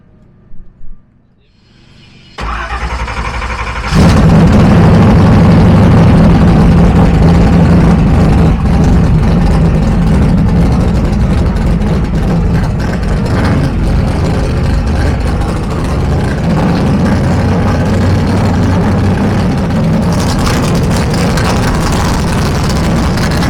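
Engine of the original Murder Nova race car, a freshened-up motor, starting up and then running loud and steady close by, a heavy low rumble holding for about twenty seconds with slight swells.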